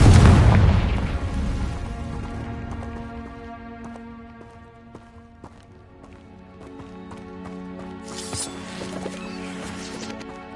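A Confringo blasting spell goes off in the Hogwarts Legacy video game with a loud boom at the start, then settles into a low rumble over sustained musical tones. A bright burst returns near the end.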